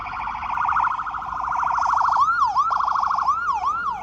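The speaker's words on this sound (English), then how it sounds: "Let the ambulance go by." Ambulance siren passing close by outside a 1999 Toyota Camry LE, loud warbling wail shifting into rapid yelping sweeps as it goes past.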